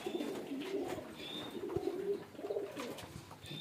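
Soft, low cooing from a male fancy pigeon, a few throaty pulses repeating close by in quiet surroundings with faint background chirps.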